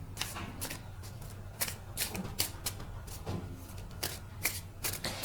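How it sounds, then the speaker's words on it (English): Tarot cards being shuffled by hand, a run of quick riffling bursts and soft slaps repeating irregularly at close range with no talk. "please think about your question when I shuffle the card."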